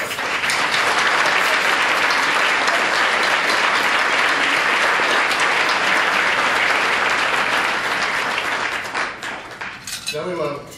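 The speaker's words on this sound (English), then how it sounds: "how about another big round of applause for everyone that's come up" A banquet audience gives a big round of applause, dense and loud, with faint clinks of cutlery and dishes underneath, tapering off in the last seconds.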